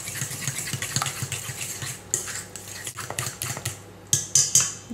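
A spoon stirs a thick, partly set chia seed mixture in a bowl, giving close, repeated clinks and scrapes against the sides in an uneven rhythm, with no talking.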